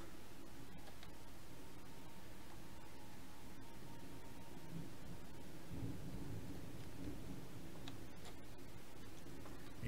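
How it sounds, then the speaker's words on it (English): Steady rain hisses through a Minecraft Nether scene while low thunder rumbles faintly in the background, quiet and continuous with no talking. "Oh, it's raining over here too."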